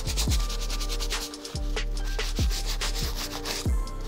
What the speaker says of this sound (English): All done with the medium all-purpose brush.